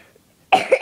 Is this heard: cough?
yes